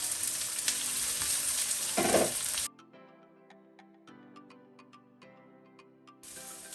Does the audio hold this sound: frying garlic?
yes